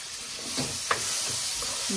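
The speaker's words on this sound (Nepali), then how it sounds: "गेडागुडी भुट्यो अनि प्याज पनि भुटिरहेछ" Onions and legumes frying in a pan for bhatti chowmein, a steady close sizzle with stirring scrapes running throughout, no talk.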